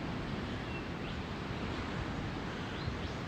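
Steady broadband wash of ocean surf breaking on a beach at sunrise, continuous and fairly loud with no pauses, a touch of wind across the microphone and no voices.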